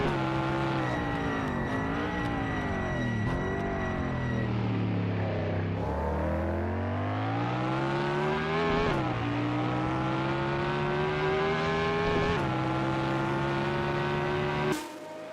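Sixties-era race car from the 60s Legends series in Assetto Corsa at Thomson Road, its engine loud and close, revving up through the gears with sharp shifts and drops in pitch as it powers around the track.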